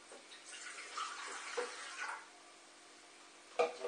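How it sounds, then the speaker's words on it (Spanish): Water pours into a bread machine pan for a bread made with blood sausage, a soft splashing stream lasting about two seconds and then stopping, with a brief clatter near the end. "Echaremos el agua"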